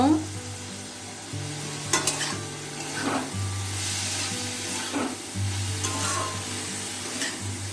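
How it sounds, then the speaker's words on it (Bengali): Bitter gourd fries in a pan with slit green chilies, a constant crackling sizzle over a low hum, punctuated by several spatula scrapes against the pan. "একটু ভাজা ভাজা করে নেব উস্তাটা"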